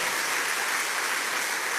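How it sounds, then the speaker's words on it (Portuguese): Applause at a Christian college graduation ceremony, a dense steady roar of many hands clapping, loud and continuous with no talk over it. "Dá um aplauso bem forte para o Senhor."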